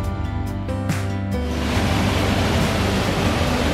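Rushing water on a muddy countryside river walk in the Bollin Valley, a loud steady broadband roar that swells in after a brief lead-in and continues without a break to the end.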